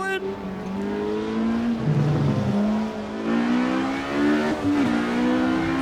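A 1960s Ferrari 330 race car revs hard through a downshift at Riverside, its engine note rising and falling in a sustained, loud, close roar, with voices talking over it.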